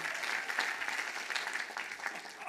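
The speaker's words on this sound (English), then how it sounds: "Go ahead, applaud." Steady applause fills a university commencement ceremony for bachelor's degree candidates at Illinois Tech's College of Computing, a dense crowd clapping continuously without letup for a few seconds.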